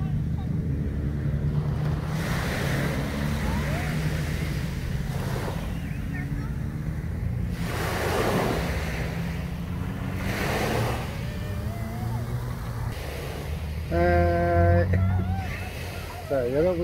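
Ocean waves at Songjeong beach at night, with periodic surges of surf washing in under wind noise while someone talks through most of it.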